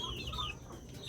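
Hens cluck softly and continuously up close, a short stretch of chattering poultry calls with a faint rustle underneath.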